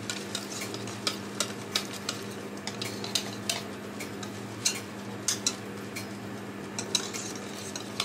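Butter being stirred into bingka batter with a utensil gives a soft, steady wet churning, punctuated by regular light clicks against the bowl roughly every half second, faint and without talk.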